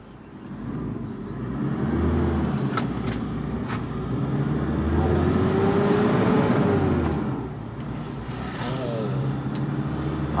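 A Toyota Fortuner, freshly tuned, pulls away in first gear, its engine note swelling and rising in pitch to a loud peak, then easing off before building again, heard from inside with no talk.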